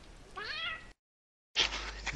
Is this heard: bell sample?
no